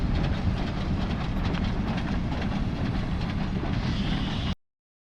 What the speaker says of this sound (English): there was a train, one of the old steam locomotives, pulling away from the station